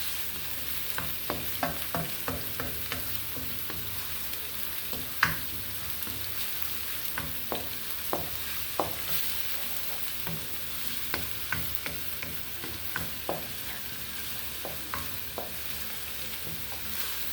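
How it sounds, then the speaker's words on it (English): Onions sweating in a wok for chicken fried rice, a low steady sizzle with scattered light crackles and stirring ticks throughout, soft and close, with no speech. "I need to wait for the onions to sweat just a little bit"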